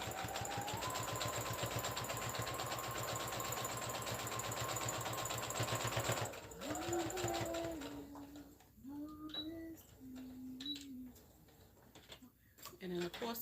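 A sewing machine runs in a fast, steady rhythmic whir while stitching fabric for about six seconds, then stops and starts in shorter back-stitch bursts as a person talks between them.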